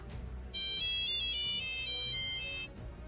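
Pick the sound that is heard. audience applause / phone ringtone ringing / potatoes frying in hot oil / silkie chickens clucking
phone ringtone ringing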